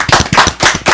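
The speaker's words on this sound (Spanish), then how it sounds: "Un fuerte aplauso para ellos." A few people clapping for the band at a close, informal studio session, loud sharp claps in an uneven patter lasting about a second.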